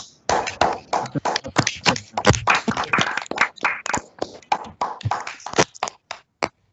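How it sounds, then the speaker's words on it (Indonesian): Audience applause for a speaker at an online discussion on controlling oil palm fruit borer pests, a dense run of close hand claps that thins out and stops after several seconds. "kita berikan tepuk tangan yang meriah untuk Bapak Dr. Agus Susanto"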